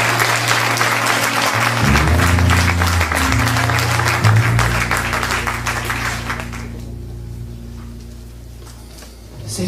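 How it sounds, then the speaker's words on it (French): Concert audience applauding, a dense, loud clapping crowd with music or amplified tones sustained underneath, fading a little toward the end with a brief swell at the close. "Donc je pense qu'on peut l'applaudir rien pour ça"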